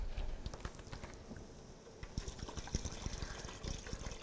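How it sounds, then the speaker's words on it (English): Water poured into a cooking pot to make broth from vegetarian chicken broth powder, a steady splashing, trickling pour heard up close with no talking. "once I put some water in here"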